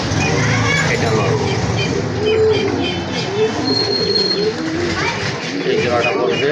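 Pigeons, including desi Bombay and black beauty pairs, coo softly in a seller's loft while someone talks over them almost continuously.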